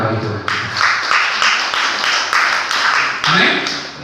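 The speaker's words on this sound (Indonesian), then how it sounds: "Tepukan untuk itu." Congregation applauding during a church service celebrating Christ's resurrection, a dense sustained clapping with rhythmic surges that carries on for several seconds at close range.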